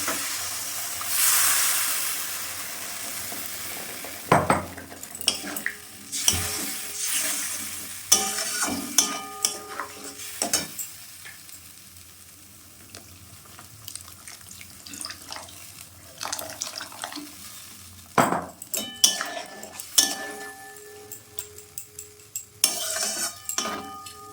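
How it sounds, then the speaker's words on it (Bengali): Turmeric powder being stirred into a Bengali bata fish curry in a pan: intermittent scraping and stirring knocks with watery, sizzling sounds, sharp clanks at intervals, no voices. "হলুদ গুঁড়ো দিয়ে দিলাম, দিয়ে নেড়ে দিলাম।"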